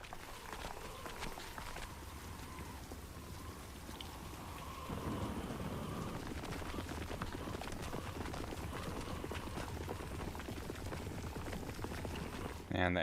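Rain and thunder from an episode of the One Piece anime: a steady, dense downpour with low rumbling that swells partway through and stays loud to the end.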